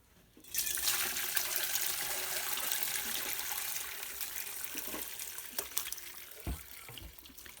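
Homemade chicken stock poured through a strainer, a steady close splashing rush of liquid that starts abruptly and runs for several seconds before tapering into trickles and drips.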